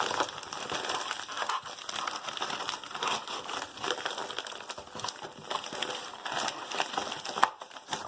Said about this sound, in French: on va essayer d'ouvrir le package